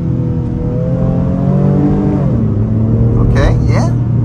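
A 2023 Honda Pilot Touring with a 10-speed transmission accelerates, its engine drone rising steadily in pitch from inside the cabin, then dipping briefly as a gear changes before climbing again, loud and continuous with a brief noise near the end.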